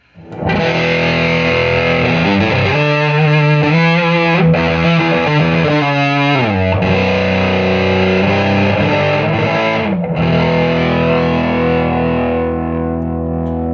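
A heavily fuzzed electric guitar through a Chase Bliss Brothers pedal plays thick, saturated chords and notes, loud and buzzing, sustaining continuously with no voices.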